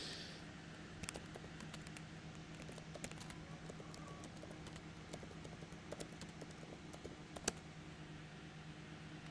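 Typing on a computer keyboard, quiet irregular clicks and short bursts of keystrokes over a faint steady room hum.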